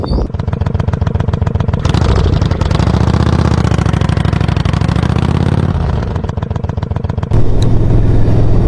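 Triumph Trophy motorcycle running steadily and loudly close to the microphone, with a continuous engine drone that rises and shifts in pitch as the bike gets under way, no voices over it.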